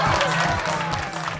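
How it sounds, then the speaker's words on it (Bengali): A children's audience bursts into loud, dense applause for a female teacher, steady clapping mixed with crowd noise and some cheering filling the room throughout. "চিনিয়া ম্যাডামের জন্য একটা হাততালি দাও"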